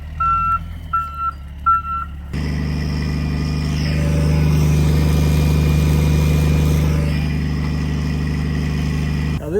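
Ford cabover army truck engine idling, a loud steady low rumble that starts abruptly after a few reversing beeps and holds evenly to the end.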